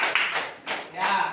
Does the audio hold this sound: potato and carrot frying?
no